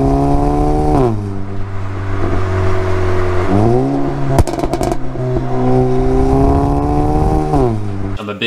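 An Audi A3 APR Stage 2 with a Miltech 3-inch stainless non-resonated catback and APR pops and bangs revs repeatedly, its loud engine tone rising and falling, with a quick crackling burst of pops in the middle.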